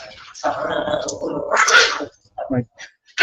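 Two dogs play-fighting indoors, with bursts of growling and whiny yelps close to the mic, broken by short gaps while someone talks briefly.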